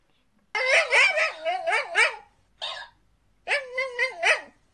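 A dog gives three bursts of barking and yipping, loud and close, with short gaps between them and no talk.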